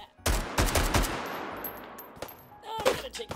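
Shots come in a quick cluster of loud cracks in Hot Dogs, Horseshoes & Hand Grenades in VR. A pause follows, then a few more scattered shots.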